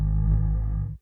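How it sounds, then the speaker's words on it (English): A homemade electronic instrument swells with a reverse reverb effect, a sustained buzzing distorted tone that holds steady and then cuts off abruptly. "I turned the reverse reverb up."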